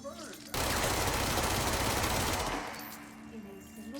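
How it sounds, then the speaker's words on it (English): A submachine gun in the video game Control fires one continuous loud rapid burst of about two seconds, then its echo trails off into quieter background ambience. "So it's like a submachine gun,"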